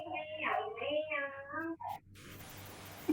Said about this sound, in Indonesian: Kucing meong-meong.